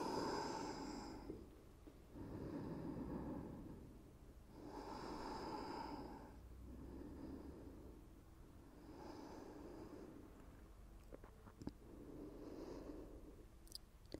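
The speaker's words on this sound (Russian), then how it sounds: "Начинаем просто дышать животом." Slow deep belly breathing during an evening yoga session, with about five long audible inhale-exhale cycles through the nose, soft and close with faint rustling between breaths.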